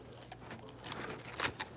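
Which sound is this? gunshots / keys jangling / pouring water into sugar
keys jangling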